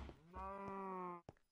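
Cattle mooing in a survival video game: one long, loud, tonal moo with clear harmonics lasting close to a second, followed by a short thump and a brief second call.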